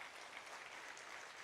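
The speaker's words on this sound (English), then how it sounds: "Can we give a clap to that?" Steady, dense clapping from an audience at a live meditation summit, even and continuous throughout with no voices standing out.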